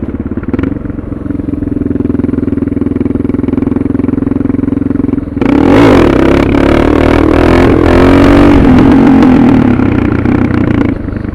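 A Suzuki DR650 motorcycle fitted with a Procycle jet kit idles with a steady thumping note, then revs hard and accelerates with a loud, rough single-cylinder roar that stays close and constant.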